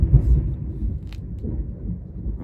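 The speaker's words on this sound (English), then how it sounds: "That was a thunder boomer." Low thunder rolls on and off during a rainstorm, a deep muffled rumble with a few soft swells and no sharp crack, heard without voices.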